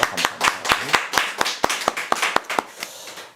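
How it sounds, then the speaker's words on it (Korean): A Presbyterian church congregation in Tokyo claps during a Thanksgiving service, with about a dozen loud, crisp unison claps in a steady rhythm that thin out and fade near the end. "우리 하나님께 영광의 박수 올립니다."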